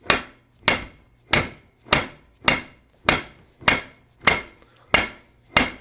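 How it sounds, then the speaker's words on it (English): A large dead blow hammer strikes a transmission bearing housing during a 4-speed gearbox rebuild, landing nine loud, evenly spaced blows roughly every two thirds of a second, each a sharp thud with a short ringing decay, with no talk. "But by hitting this with a large hammer,"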